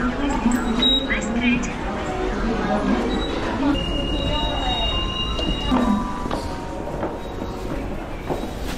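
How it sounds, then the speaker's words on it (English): Short, fast metro-style train ride in Korea, with steady rolling rumble, faint clickety-clack and brief wheel squeals close around the listener, and voices talking over the noise throughout. "This is like a 2 minute train ride."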